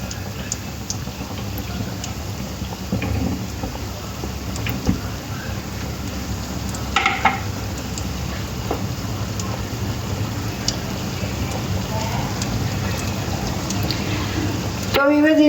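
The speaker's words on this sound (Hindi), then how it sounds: "तो वीवर इस तरह मैं सारे फ्राई कर लेती हूँ" Homemade chicken nuggets fry in hot oil over a low flame with a steady, rain-like crackling hiss that runs throughout, while someone talks over it.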